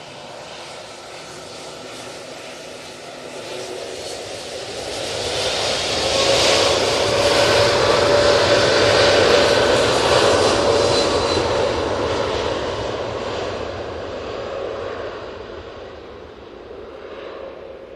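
A TUI jet airliner turns and starts its takeoff roll at Manchester Airport, a broad engine roar that swells steadily, peaks midway with a faint whine on top, then slowly eases off as the plane moves away.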